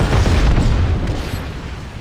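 Naval gunfire from a battleship video game, a loud, deep booming blast that rolls out and slowly fades over two seconds, with no talk over it.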